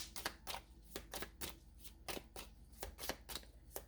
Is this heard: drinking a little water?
no